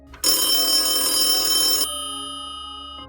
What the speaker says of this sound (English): a police dispatcher's phone rang.